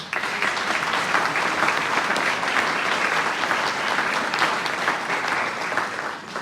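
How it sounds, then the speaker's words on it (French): An audience at a New Year's wishes ceremony in Saint-Mammès applauds a team, a steady wash of many hands clapping at moderate volume, sustained evenly throughout. "On peut les applaudir."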